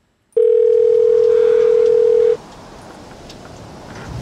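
A steady telephone dial tone rings out loud and alone for about two seconds, then cuts off abruptly, leaving faint background hiss; the call goes unanswered.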